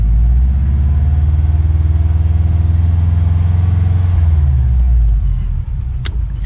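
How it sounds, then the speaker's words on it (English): A right-hand-drive 2004 Subaru Impreza WRX idles with a deep, loud, steady engine rumble close by, holding for about five seconds before the sound drops away; no distinct rattle stands out. "there's like a rattle coming from the engine."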